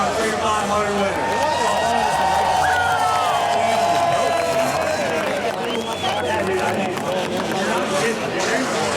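At the Freedom 500 motorsport event at the Freedom Factory, an outdoor crowd cheers and applauds the winners in a steady, wide roar with whoops and chatter, while people talk over the noise.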